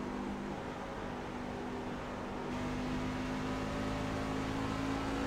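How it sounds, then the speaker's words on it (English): Truck engine in a racing video game, heavy trucks on an oval at speed, steady droning roar with a shift in pitch midway as the gear changes, loud and continuous with no talk. "You can hear him switching gears there into third, back up into fourth."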